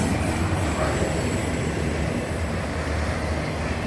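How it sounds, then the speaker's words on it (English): A metro train rumbles past close by, a dense, continuous roar of wheels and cars on rail filling the whole span with no pause. "and there's a train right here."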